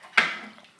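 A cooking pot is handled as pork ribs and a piece of ginger go into cold water, giving a single sharp metallic clank close by that quickly fades.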